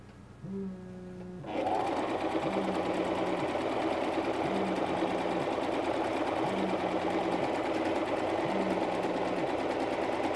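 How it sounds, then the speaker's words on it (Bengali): A foot-powered treadle sewing machine stitches pants, starting with a few soft knocks and then settling into a steady, close mechanical whir with a regular rhythmic pulse throughout. "মেশিনে সেলাই করে আমরা এটা দিয়ে নিব, চট করে হয়ে যাবে"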